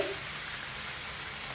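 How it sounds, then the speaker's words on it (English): Chopped onion hits hot oil in a sauté pan for a quick chicken, broccoli and smoked sausage rice dish, giving a steady, even, close sizzle that holds at one level throughout, with no voice. "I'm going to go ahead and drop my onion"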